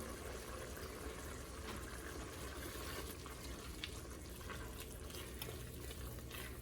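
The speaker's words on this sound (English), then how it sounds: "if you get too thick, just add some beef stock. Just pour it in." Beef stock poured into a simmering pot, a soft, steady splashing and trickle of liquid, faint and continuous with no talking.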